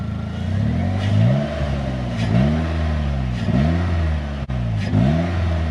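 Polaris Slingshot SLR engine blipped repeatedly, about five sharp revs rising and falling with audible intake suction, close and loud, no talking.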